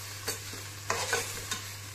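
Prawns stirred into fried onions in a pan for Goan prawn curry, giving a few soft scraping stirs and light sizzling bursts over a steady low background hum, with no talking.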